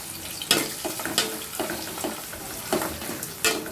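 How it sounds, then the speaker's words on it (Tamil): Onions frying in a pan for Saidapet-style vada curry, with irregular spatula scrapes and stirs over a soft sizzle, close and moderately loud, no voices. "இப்போ வெங்காயத்தை போட்டுக்கலாம் நல்லா கிண்டி விட்டுடலாம்"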